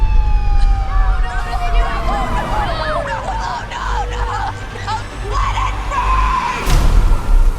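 Wailing fire engine sirens in a film sequence sweep up and down continuously as the trucks race past toward a blaze, loud and layered over a busy background rumble, with a sharp crash near the end.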